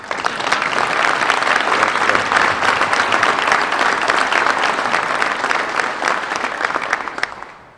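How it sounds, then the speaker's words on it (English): A chamber of commerce holiday breakfast crowd applauds two honoured guests seated up front: dense, loud, sustained clapping that holds steady before tapering off at the end. "you can clap now for them"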